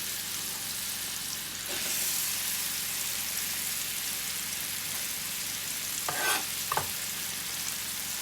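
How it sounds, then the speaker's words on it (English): Onions browning and sautéing in hot oil for chicken korma give a steady, dense sizzle throughout, with a couple of brief utensil knocks near the end and no speech. "I'm just going to start browning and sauteing my onions"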